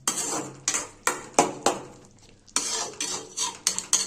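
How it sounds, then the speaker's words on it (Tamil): Chicken liver masala fry being stirred in a pan, with repeated metal spoon scrapes and clacks against the pan at a steady rhythm, close and clear, with a faint sizzle underneath. "மசாலா போட்டு நல்லா கிண்டிக்கங்க."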